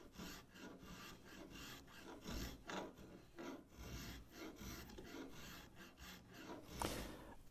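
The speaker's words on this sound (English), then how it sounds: "Finally finishing off just with spoke shave. Just gets a nicer finish on it." A spokeshave is drawn across wood while shaping a guitar, giving quiet, repeated rasping strokes in a steady rhythm, close up and with no talk.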